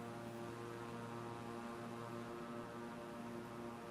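The small propeller plane's engine in Flight Simulator drones steadily through the cockpit, a constant even hum with no talk over it.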